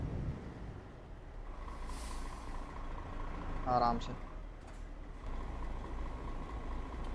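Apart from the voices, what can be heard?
Mercedes-Benz Axor truck driving in Euro Truck Simulator 2 video game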